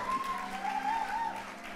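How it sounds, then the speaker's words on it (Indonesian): Audience applause at a church community gathering in Jakarta, a brief, fairly faint spread of clapping with a tonal hum running beneath it. "Tepuk tangan dulu dong."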